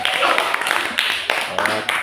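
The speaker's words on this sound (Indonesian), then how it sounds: "oke, tepuk tangan" Students in a classroom clap their hands together, a short burst of rapid, uneven claps at close range with a few voices underneath.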